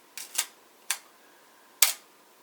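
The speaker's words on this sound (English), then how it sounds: "We'll just test fire the shutter." A Canon AE-1 film camera fires its shutter in a handful of sharp, crisp clicks, close and isolated against near silence, with the last one standing apart.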